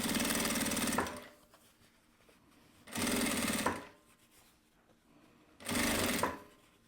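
A sewing machine stitches a seam on a nylon-lined piece in three loud, even bursts of rapid mechanical whirring, each about a second long, separated by quiet pauses.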